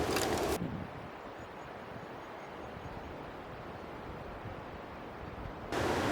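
Steady broadband wind roar with low gusty rumble, constant and fairly loud throughout, with brief louder bursts at the start and end.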